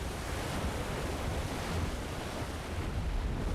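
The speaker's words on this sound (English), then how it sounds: "Oh, did the waves pick up?" Ocean waves in the submarine game Silent Hunter 3 make a steady broadband wash of surf and wind. The sound is continuous and moderately loud, with no distinct breaks and no voices.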